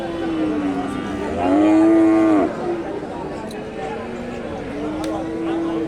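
A Friesian cow moos loud and close at a busy Bangladeshi village cattle market, one long drawn-out low call, amid constant crowd chatter and people talking.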